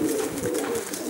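Soft, low cooing of pigeons, a steady murmuring coo from a loft of Greek fantail-derived pigeons, faint and close, without talk.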